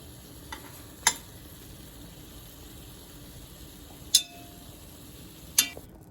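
Meatballs fry quietly in a pan, a soft, steady sizzle running throughout, broken by three or four sharp clinks of a utensil against the pan, with no talking.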